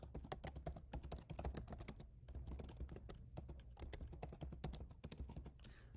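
Rapid, continuous clatter of fingers typing login credentials on a computer keyboard, close and steady throughout with dense irregular keystrokes and no talking.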